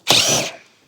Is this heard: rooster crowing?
no